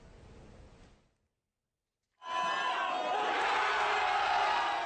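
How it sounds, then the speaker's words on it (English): Soccer fans from Seoul's expat community erupt in loud, sustained cheering and applause after a short silence, a dense crowd roar that holds steady to the end, with some indistinct voices at the start. "Cheers and applause burst out from soccer fans who aren't shy about showing their passion."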